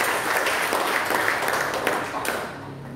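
A church congregation claps for God during a sermon, a loud, dense burst of applause that holds steady before gradually thinning out toward the end.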